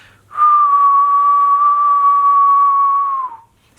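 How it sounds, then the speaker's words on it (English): A person whistles one long, steady note held for about three seconds, clear and close, then lets it dip at the end, with no talking. "Let me do my whistle."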